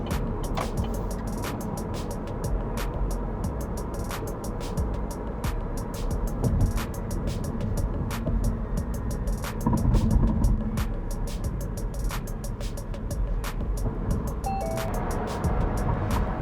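A Chevrolet Bolt EV electric car driving onto a highway, heard from inside as a steady, loud cabin drone of road and tire noise with rhythmic clicking over it.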